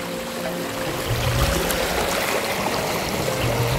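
Water rushes and splashes in a steady, full stream, a continuous close roar of flowing water with no voices.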